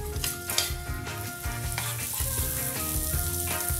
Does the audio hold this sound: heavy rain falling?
no